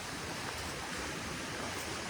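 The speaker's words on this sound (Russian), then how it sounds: "Надо сейчас перейти речку Цинзыба." The Tsinzyba river rushes in a steady, broadband wash of flowing water, close and unbroken, with no voices over it.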